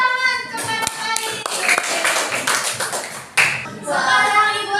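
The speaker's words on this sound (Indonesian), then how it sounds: "beri tepuk tangan kepada Fadil." Children in a primary school classroom clap their hands together for a classmate, a ragged burst of claps with a pause and a second round, while young voices chatter over it.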